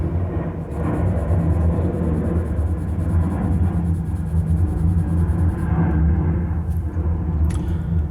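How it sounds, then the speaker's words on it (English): An airplane passes overhead as a loud, steady broadband rumble and roar that fills the whole stretch with no talking. "And we have a plane passing overhead."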